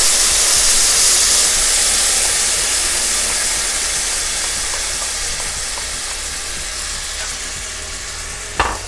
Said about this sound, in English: That was a pretty dramatic sizzle, I have to say.